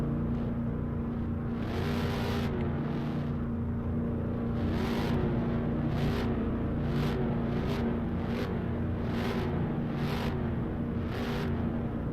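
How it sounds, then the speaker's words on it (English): A car engine revving in repeated bursts, about eight or nine rises over a constant idle drone and steady whir, heard close and fairly loud with no talk. "stop revving"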